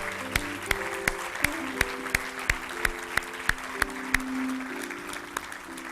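A church congregation claps in unison on a steady, even beat, each clap sharp and distinct over a warm bed of sustained music, the rhythm continuing throughout.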